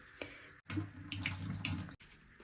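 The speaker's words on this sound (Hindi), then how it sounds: "इसे भी वॉश करके रख देती हूँ और पानी में डुबो के रख देती हूँ" Tap water runs steadily over vegetable stalks being washed in a kitchen sink, a close splashing stream broken by brief pauses at the start and end.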